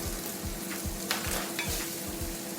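Brown rice is stir-fried in a pan with vegetables and chicken breast, a steady sizzle broken by rhythmic scraping strokes of the spatula and a few sharper crackles.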